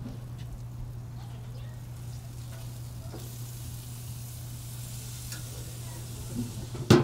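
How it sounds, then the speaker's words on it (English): Steak sizzling on a grill for a Thai beef salad, a steady close hiss and crackle with a low hum underneath and a small knock near the end. "Whenever you cook something on the grill, you wanna take it off at a temperature lower than your final temperature"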